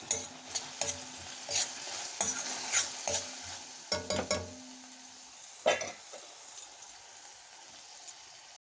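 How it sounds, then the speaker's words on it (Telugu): Tender tamarind leaves frying with onions in a pan, a steady sizzle broken by repeated sharp scrapes and clinks of a spoon against metal, then settling to a softer crackle. "చింతచిగురు తీసుకొచ్చి ఈ తిరుమాతలో వేసుకొని వేగనివ్వండి"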